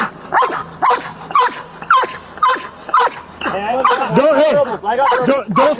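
A dog barks repeatedly at a person hiding up a tree, a run of loud close barks in a steady rhythm that shift into whining yips, with a voice talking in between.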